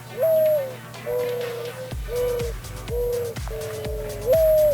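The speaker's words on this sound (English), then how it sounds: "if you were to hear the bird call, like I'm gonna play right now" Mourning dove call played back from a recording: a soft, mellow cooing hoot repeated about five times in a slow, even rhythm, each note slightly drawn out, heard clearly over a low background hum.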